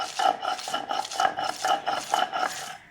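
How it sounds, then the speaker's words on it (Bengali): Bombay duck fish heads ground on a stone grinding slab with a grinding stone: soft, close, rhythmic rasping strokes, roughly six even back-and-forth scrapes at a steady pace. "এবার এগুলোকে আমরা একটু হালকা করে বেটে নেব।"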